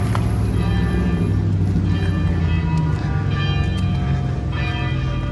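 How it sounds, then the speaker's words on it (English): Catholic church bells ring out over a busy, steady background hum on an evening in St. Augustine, their tones sounding repeatedly at a moderate distance. "We got church bells going."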